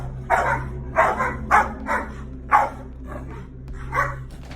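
Several dogs bark in short, sharp bursts, about seven distinct barks spaced roughly half a second apart, close to the microphone indoors, with a low steady hum underneath and no talking.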